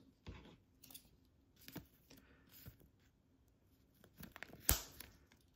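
Scissors cutting open the wrapping of a 2023 Donruss Elite blaster box of trading cards, quiet close snips and crinkles of plastic, with a sharper rip near the end.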